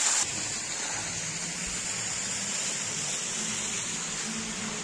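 Steady, broadband rush of a mountain stream on the trail to Nag Tibba, flowing water heard close and constant without pause or voices.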